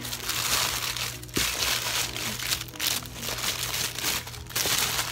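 Protective paper wrapped around the handle of a Chanel bag crinkles and rustles close by in an unboxing, with repeated crumpling handling noises throughout and no speech.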